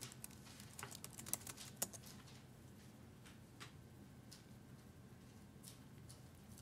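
Someone types on a computer keyboard, with faint, scattered key clicks in a quick irregular patter over quiet room noise.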